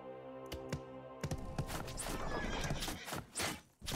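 Horses in the strategy video game Flow of War whinny sharply several times over a busy bed of hooves clip-clopping, with a few clicks like typing; no one talks.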